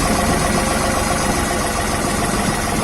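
A New Holland TT4 tractor's diesel engine idles steadily at close range, a dense continuous rumble with an even low throb and no talk over it.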